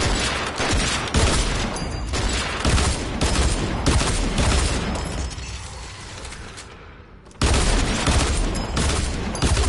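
Loud, dense gunfire from the Fortnite video game, rapid overlapping shots and bursts filling nearly ten seconds, thinning briefly before a sharp return at full intensity.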